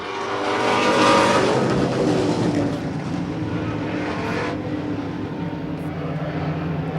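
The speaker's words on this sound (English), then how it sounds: "He's got that 57 Chevy, battling for 3rd." Vintage 1957 Chevy stock cars race side by side during the 2022 Fall Fury, producing a loud, sustained engine roar that swells early and then holds steady as the pack passes.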